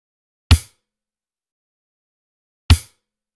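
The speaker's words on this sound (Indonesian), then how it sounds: "Kemudian ketuk secara bersamaan kick dan close eye head sebanyak 2 kali." A drum kit's kick drum and closed hi-hat are hit together twice, two crisp, booming strikes about two seconds apart, with silence between them.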